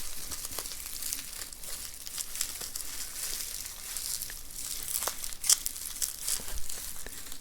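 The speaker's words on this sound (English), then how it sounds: "mainly I'll just be trying to like slide them out of their bubble wrap." Skylanders toys slid out of bubble wrap, giving soft crinkling and rustling with scattered sharper crackles and pops, close and fairly quiet.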